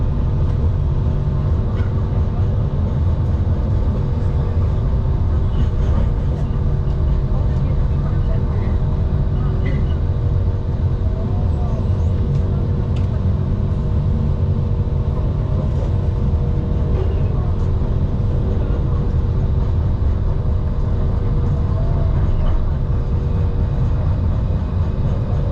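An LRT train running through Kuala Lumpur, Malaysia, with a steady loud rumble and rolling wheel noise throughout, constant and close, carrying faint voices beneath.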